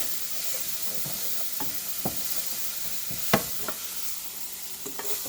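Onion and garlic sizzle in a pan while being stirred for a barbecue sauce, a steady close hiss broken by scattered scrapes and light clinks of the utensil, with no talking.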